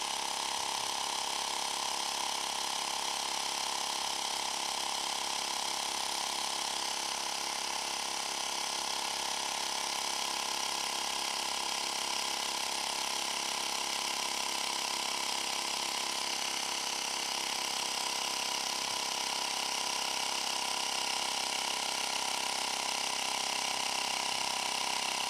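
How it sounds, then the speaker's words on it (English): A hand pump inflating the tyre of a Xiaomi M365 electric scooter, a steady hissing mechanical drone that runs unbroken at a moderate, even level for the whole stretch. "So we're going to quickly just give it a quick pump."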